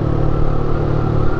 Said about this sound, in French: Un bon frein moteur pour une 125, c'est à remarquer